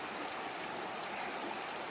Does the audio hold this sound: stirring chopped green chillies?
no